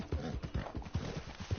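Horse hooves clip-clop in a steady, close rhythm as a rider travels on horseback in Red Dead Online, the western video game, with no talk over the footfalls.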